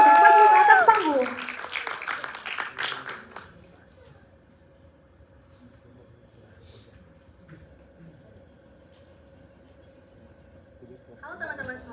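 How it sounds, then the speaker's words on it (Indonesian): Audience clapping greets presenters walking onto the stage at a public speaking event. It is fairly loud for about three seconds, then fades into a quiet room with a faint hum, and a brief burst of sound returns at the end. "Boleh tepuk tangannya kepada Nika dan Lydia untuk maju ke atas panggung"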